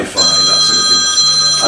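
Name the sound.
telephone ringing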